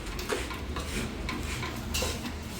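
A spoon scrapes and clinks against a pan while powdered sugar is mixed into a warm mixture with grated coconut for a winter sweet, making a steady close scraping with light metallic taps and no talk.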